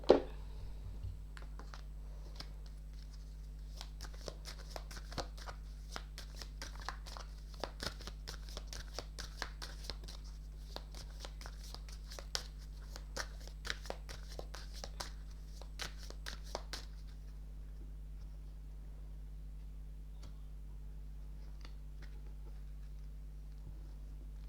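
Oracle cards being shuffled by hand for a tarot love reading, a quick run of crisp papery riffles and taps over a low steady hum, close and faint, then near silence for the last several seconds.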